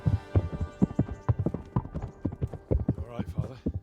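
Horse hooves clip-clop steadily on a road in the medieval video game Kingdom Come: Deliverance, a quick even rhythm with a low hum beneath and a voice speaking over it.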